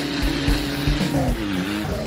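A Toyota Fortuner Legender 4x4 accelerates on a dirt road, its engine rumbling loudly and climbing in pitch with steady low droning and a few brief thumps, no talking.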